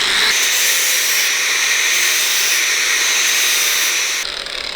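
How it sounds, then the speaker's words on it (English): A power grinder bites into a piece of metal being ground flat for a Harley oil pump ball grinder, giving a loud, steady high-pitched hiss that holds for about four seconds before cutting off. "So grind him off reasonably flat and put a chamfer on it."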